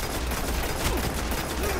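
Gunfire from a gun in a video game comes as a loud, dense burst of rapid shots that continues without pause for the whole short stretch.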